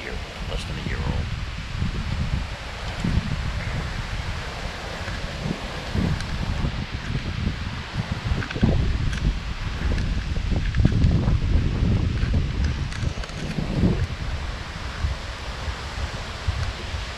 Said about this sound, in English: Look how windy it is, the tree is just moving.